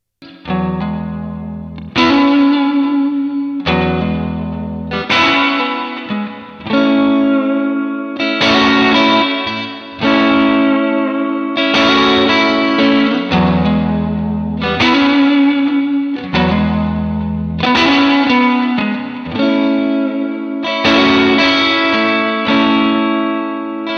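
Electric guitar through a NUX Tape Echo delay pedal set subtly with reverb, loud sustained chords struck every couple of seconds, each ringing out with a soft washy echo trailing underneath, alone with no talking.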